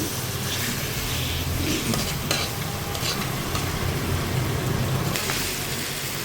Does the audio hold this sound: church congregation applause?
no